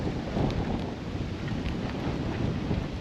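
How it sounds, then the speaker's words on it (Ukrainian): Strong, steady winter wind roars across the microphone at a river mouth on the Desna, a dense continuous rush with gusty swells and no voices. "Вітер такий."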